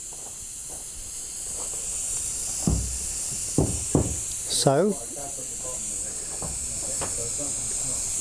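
Steam hissing from a model steam engine of Beeleigh Mill as it is first switched on, a steady broadband hiss running throughout, with a few brief bursts and a short spoken word over it.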